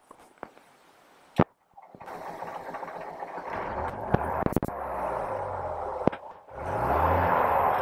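An aircraft engine with an MT reversible propeller held in flat pitch starts up after a few sharp clicks and a pause, then settles into a steady, loud rumbling idle that swells again near the end.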